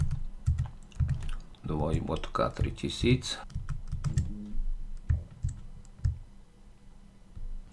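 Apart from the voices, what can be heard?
typing a URL on a computer keyboard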